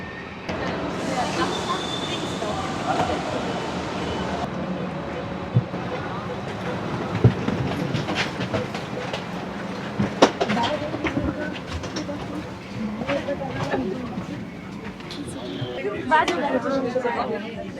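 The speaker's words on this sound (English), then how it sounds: "the train is really packed and I barely found myself a seat" A packed train rumbles along the rails in Budapest with a steady low drone and occasional clacks, while passengers chatter and talk throughout.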